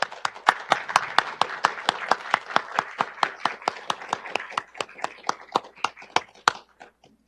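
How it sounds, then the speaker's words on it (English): A modest audience at a university forum applauds in sparse, slightly uneven claps that taper off toward the end, with no talking on top. "I'd love to acknowledge you all with applause."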